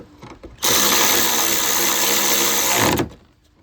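A power tool whirs steadily for about two and a half seconds at close range as it tightens the wiper arm nuts on a Pontiac Montana, then winds down.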